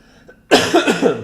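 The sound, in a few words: cough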